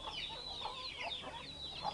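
A crossbred Índio Gigante pullet clucks close by, with a series of soft, repeated calls over quiet background.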